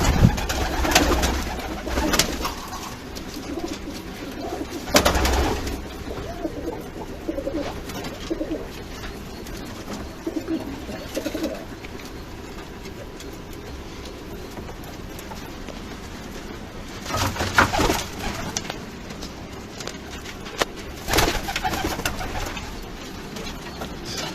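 Shortface pigeons coo in a coop, soft rolling calls repeating over a long stretch, with intermittent wing flutters and shuffling noises mixed in.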